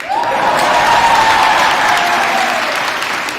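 A short, dense burst of audience applause at a Sunday worship service, loud and steady throughout with a faint murmur of voices underneath.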